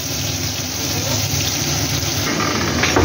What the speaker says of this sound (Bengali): দেখুন আলুটা লাল লাল করে ভাজা হচ্ছে